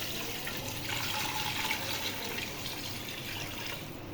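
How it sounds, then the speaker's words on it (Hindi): Water pours steadily into a cooking pot holding goat trotters for paye, a continuous splashing gush that stays close and fairly even throughout. "अब इसके अंदर जाएगा पानी।"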